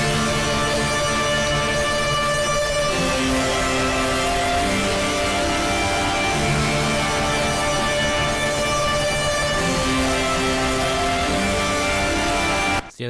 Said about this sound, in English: But just yeah, some like super thick chords,